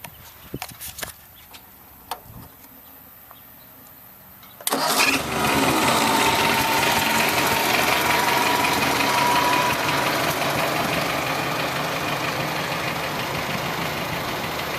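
A 1957 Ford 800 tractor with a restored engine cranks with a few clicks, then fires and settles into a loud, steady, rough idle that runs to the end.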